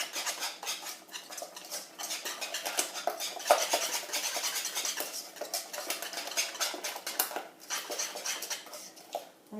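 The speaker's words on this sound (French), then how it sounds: "nous allons battre notre crème." Cooled pastry cream for chocolate éclairs is beaten in a bowl, producing quick, irregular clicking and scraping of a utensil against the bowl, fairly faint and close, with no talking.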